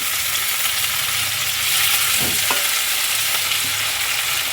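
Tomatoes frying with sautéed onions in a pan for a tamarind kuzhambu, giving a steady close sizzle with a few stirring scrapes and no talk.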